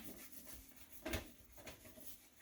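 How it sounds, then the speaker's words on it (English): Soft rubbing and scraping as a Norwex EnviroSponge, coated in cleaning paste, scrubs rust residue off a pan, in quiet back-and-forth strokes with one sharper scrape midway. "I just put the cleaning paste on the Enviro side of it, and I go back and I scrub it"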